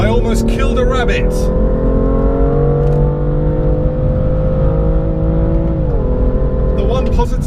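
Steady, close engine roar of a 2017 BMW M2 under acceleration, the pitch easing upward then dipping as it shifts, with no talking over it.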